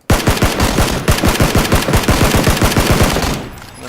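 Rapid automatic gunfire in PUBG rattles off in a loud, steady burst of about two dozen evenly spaced shots, stopping abruptly near the end.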